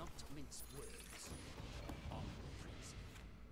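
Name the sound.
lock being applied to a card in Gwent video game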